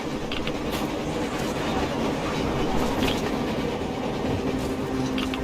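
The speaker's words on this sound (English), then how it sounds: "A train! A damn train! Look!" Train passing in Metro Exodus, a steady loud rumble of wheels and rail clatter filling the whole stretch, with occasional higher squeals over the noise.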